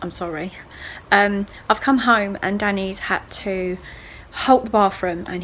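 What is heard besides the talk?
No everyday noise stands out behind the speech.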